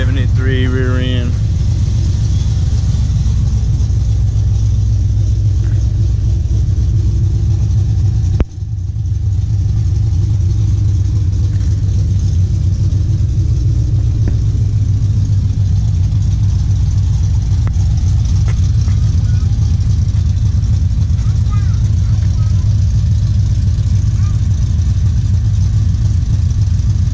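A cammed 5.3L V8 truck with a 221/226 Cam Motion cam, Pacesetter headers and MagnaFlow exhaust idles loudly and steadily up close with a deep lopey rumble, a brief dropout midway, under faint talk.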